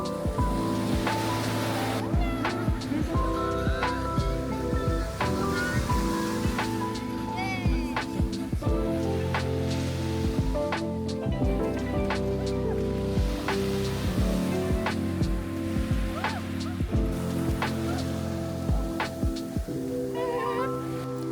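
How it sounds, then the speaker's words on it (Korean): Sea waves wash onto the sand at Sokcho beach in Korea at the end of summer, a continuous surf rush with repeated swells, partly under steady music and occasional voices. "바닷소리를 들으니 마음이 평온해지는 것 같아요."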